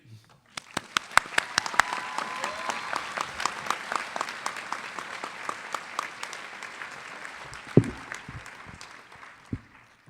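Audience at a 2012 College of Creative Studies commencement ceremony applauding to welcome a speaker named Monique, a few sharp claps swelling into steady, moderately distant applause that carries on for several seconds before tapering off.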